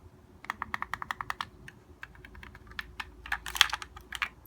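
Rapid series of crisp plastic clicks from the buttons beneath the rear paddles of a custom Xbox One controller, first a quick even run of about eight presses, then scattered irregular clicks, close and fairly quiet.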